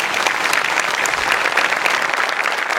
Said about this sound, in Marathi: त्यांच्याकरता आपण एकदा टाळ्या वाजवूया